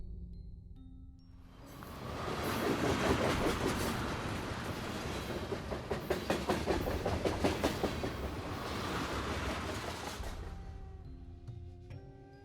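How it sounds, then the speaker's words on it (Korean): A train approaches and roars past close by, rumbling loudly with rhythmic clickety-clack of wheels on rails, then fades as it moves away. "굉음과 함께 열차가 현서의 등을 스치듯 지나쳤다."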